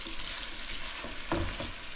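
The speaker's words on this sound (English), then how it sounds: "Saute them a little." Food sizzles steadily in a hot pan while being sautéed, a close continuous frying hiss with a brief stirring scrape near the end.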